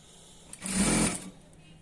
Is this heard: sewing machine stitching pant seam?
yes